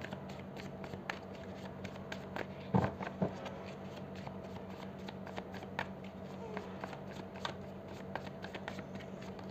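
Tarot cards shuffled and drawn during a Cancer zodiac reading: a soft, steady papery riffling runs throughout, with a brief louder flurry of card slaps near the start and faint room hum beneath.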